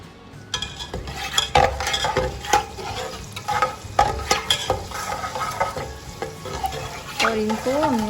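Meat masala fries tadka style with spices and lemon juice in a pan, giving a steady loud sizzle broken by repeated scraping stirs of a utensil against the pan.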